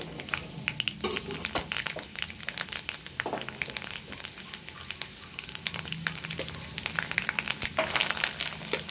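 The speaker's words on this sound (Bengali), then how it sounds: "সবজিগুলো দিয়ে একটু নাড়াচাড়া করব।" Vegetables sizzle and fry in a pan with curry leaves, cumin, crushed cardamom and cloves while being stirred, giving a steady close crackle with scattered scraping clicks throughout.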